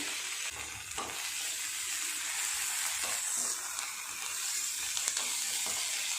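Prawn paturi frying in a covered pan makes a steady, close sizzle with a bright hiss throughout, with occasional soft crackles and faint stirring sounds.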